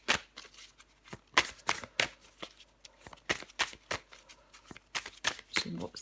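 Tarot cards are shuffled and handled close up during a horoscope reading, making rapid, papery riffles and flicks in quick bursts. A voice speaks quietly underneath.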